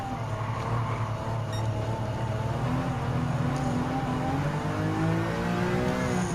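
Racing engines in Gran Turismo 7 during a European Clubman Cup race, with a 2003 BMW M3 overtaking two European hatchbacks, loud continuous engine drone with rising revs as the cars accelerate.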